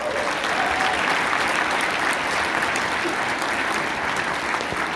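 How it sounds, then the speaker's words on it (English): Dense, loud audience applause for a senior county band concert, a steady unbroken roar of many hands clapping throughout. "Can we give them a round of applause?"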